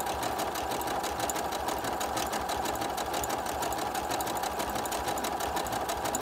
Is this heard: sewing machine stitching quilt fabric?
yes